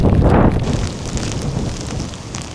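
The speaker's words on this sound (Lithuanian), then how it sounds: "Ir lietus prisistatė." Wind and rain sweep over the Šventoji river during a stormy fishing outing, opening with a heavy gust buffeting the microphone and then settling into a steady rushing roar.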